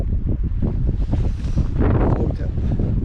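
Strong wind roars over the microphone on a walk at Loch an Eoin, a steady, loud, buffeting rumble that continues unbroken through the whole stretch.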